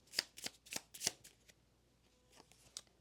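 A deck of tarot cards shuffled close up, a series of four or five crisp riffling bursts, then softer, fainter card flicks in a quiet room.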